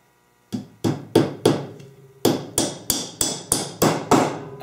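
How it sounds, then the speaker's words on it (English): A hammer drives 3/4 inch nails into the wooden top bar of a Langstroth beehive frame, giving about eleven sharp, close, ringing blows in a steady rhythm with a brief pause midway. "make sure you're nailing into the solid part of the top bar"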